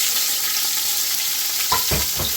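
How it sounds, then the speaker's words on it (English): Thin slivers of onion frying in a pan make a constant bright hiss, joined near the end by a few quick scraping stirs, with no voices. "we want to caramelise those onions pretty slowly"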